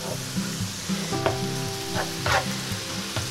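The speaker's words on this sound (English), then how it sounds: "stir it around real good" Taco meat sizzles in a pan while a spoon stirs it, with steady frying hiss and repeated scraping clicks close up, no voices.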